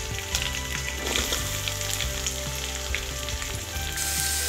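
Sliced onion hits hot oil in a pan during a liver fry, giving an even, close frying sizzle with scattered crackles and spits over a low background hum, with no voices.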